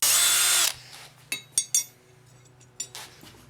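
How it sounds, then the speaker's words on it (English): A drill bit bores holes through metal tabs for an anvil chain hold-down, a loud burst of whirring at the start followed by quieter clinks and metallic knocks as the workpiece is handled. "here I'm going to run a drill bit through it, that way I have nice clean holes for the bolt to slip through"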